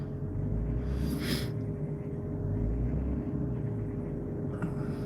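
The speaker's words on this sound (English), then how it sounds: "I'm trying to let my truck warm up a little bit before I take off." A pickup truck engine idles while warming up on a chilly day in the low 40s, giving a steady low rumble that carries on without a break throughout, with a brief brighter swell partway through.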